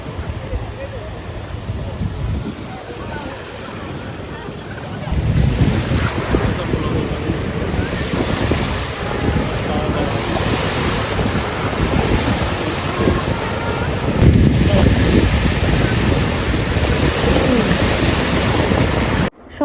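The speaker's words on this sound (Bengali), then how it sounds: "সাথে বাতাস আর সমুদ্রের গর্জন" Strong wind and roaring surf at Inani beach in Cox's Bazar at dusk, heard as a continuous loud rush with buffeting wind noise on the microphone that swells partway through.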